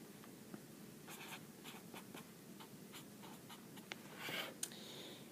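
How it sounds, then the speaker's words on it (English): A pencil writes on paper while a topographic map's grid squares are noted down, with faint scratchy strokes and taps in short bursts, close and quiet, with no talking. "So we need to write that down."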